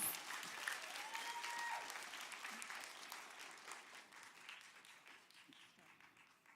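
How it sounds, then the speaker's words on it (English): Applause greets fifth grade graduates at a school ceremony, a full room clapping loudly at first and then gradually thinning and fading, with a few voices mixed in. "Graduates, give yourselves a round of applause."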